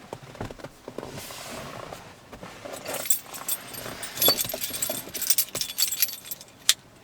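Keys for a Ford F150 pickup jangle and clink in short bursts, growing busier and louder toward the end with a sharp metallic rattle, close by with no talking.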